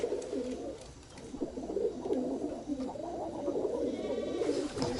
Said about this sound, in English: here I have my birds making some noise